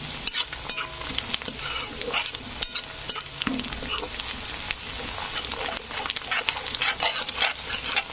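Onion mixture with red chilli powder fries in a pan while a spatula stirs it briskly. Busy, irregular scrapes and clatters sit close over a bright sizzle, with a faint bark-like sound somewhere in the background.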